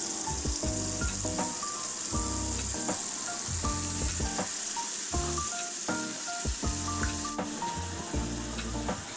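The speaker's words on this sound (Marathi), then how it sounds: "आता यामध्ये 15 मिनटं मॅरिनेशन करून घेतलेले हे माशाचे तुकडे घालून घेऊया आणि याला दोन्ही बाजूने छान फ्राय करून घेऊ" Marinated fish pieces fry in a hot pan with a steady, close sizzle that runs through the whole stretch, with tuneful background music playing over it.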